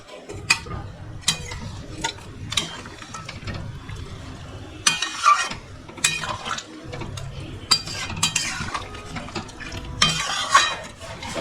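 Mutton cooks with spices in a pan, stirred with a utensil that scrapes and clanks against the metal in irregular strokes over a low bubbling sizzle, close and clear.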